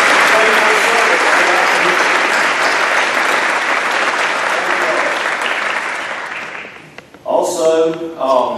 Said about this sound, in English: Please stand and let's give them a round of applause for their faithful service.